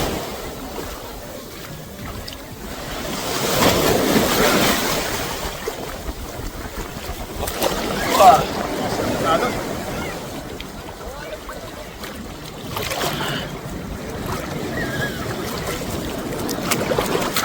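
Ocean waves roll and crash at Nasugbo beach in Batangas, swelling into loud surges around the middle and later stretches, with steady wind buffeting the microphone and faint voices in the background.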